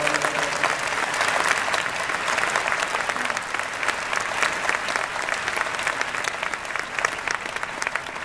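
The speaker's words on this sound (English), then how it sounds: "Let's give them a round of applause." A city council meeting audience in St. Petersburg applauds council members, with dense, sustained clapping from a sizable crowd that holds steady and fairly loud for the full stretch.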